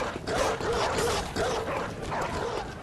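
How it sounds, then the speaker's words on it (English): A dog in the video game Bloodborne sounds off in a dense, continuous stretch of yelping and growling, loud and close against a busy game soundscape. "Quiet dog."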